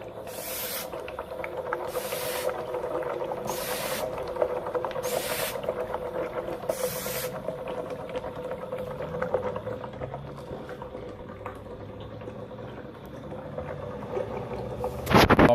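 A hand-operated oil extractor pump drawing engine oil out of a car engine during an oil change: steady gurgling suction hiss with rhythmic pumping strokes, close up and continuous, no talking.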